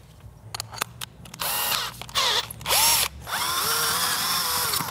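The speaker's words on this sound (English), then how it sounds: "then we drill a hole in here, which means I'm gonna need a drill" A power drill boring a hole through a jig, starting with a few clicks, then short bursts of high whirring, and ending in a sustained loud drilling run close by.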